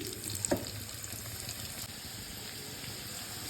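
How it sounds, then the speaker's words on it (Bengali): Potatoes frying in oil give off a faint, even sizzle and hiss that holds steady, with one small clink near the start. "এবার আলুটা ভাজতে দিচ্ছি।"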